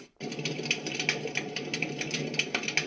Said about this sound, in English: This is the sound of a fire.